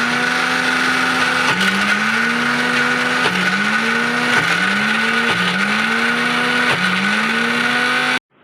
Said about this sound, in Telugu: ఇప్పుడు ఇంకొకసారి మనం మిక్సీ పట్టుకుందామండి